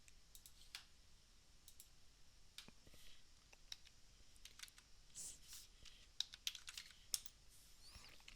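Computer keyboard typing while working in CAD software, a scattered run of light, quiet key clicks and taps, some in quick clusters and others spaced out, heard close with no talking.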